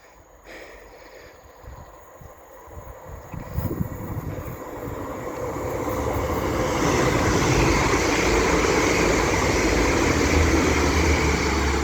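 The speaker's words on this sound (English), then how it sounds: "Now coming through is a pairing of Transpennine Express Class 185s running from Manchester Airport to Saltburn" A pair of TransPennine Express Class 185 diesel trains running from Manchester Airport to Saltburn pass through Church Fenton on the East Coast Main Line, a faint rumble swelling into a loud, sustained roar as they go by.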